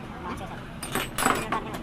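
Keys jangle in short metallic bursts during repair work on a Royal Enfield Bullet shock absorber, several bright clinks close by, with people talking over the clatter.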